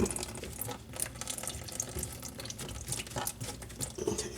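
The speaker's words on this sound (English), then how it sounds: "Dump that water out." Water empties from a sink drain trap into a catch pan, a close, uneven splashing and trickling with small gurgles and spatters, fairly quiet and with no talking.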